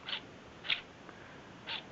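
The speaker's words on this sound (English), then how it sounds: "That sound is the lens closing down to my my selected aperture and opening back up." Three brief, faint mechanical clicks spaced about half a second apart in a quiet room, a Contax RX camera lens aperture closing down and opening back up, each a soft snap with nothing else around it.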